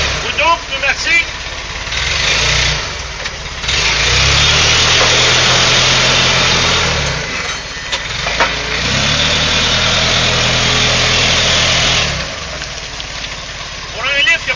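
Propane-fueled Clark dual-wheel forklift with cab, newly fitted with carburetor valves and a reworked propane system, running after sitting all winter; a steady close engine drone holds throughout, rising in two longer sustained stretches, with some noise and voices over it.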